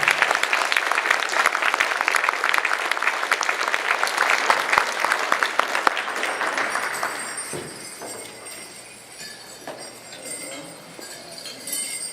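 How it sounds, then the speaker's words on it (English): Audience applause for a dancer at an Indian education summit in South Dakota, dense and loud for about seven seconds before thinning into scattered claps and fading room noise. "So let's give a round of applause for Marta."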